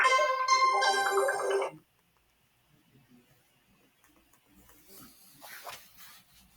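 A Motorola "Hello Moto" phone ringtone plays loud and close as a short bright melodic jingle, then cuts off, leaving faint room noise and a few quiet sounds.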